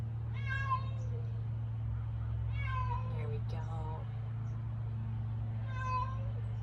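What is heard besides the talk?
cat meowing, tangled on its leash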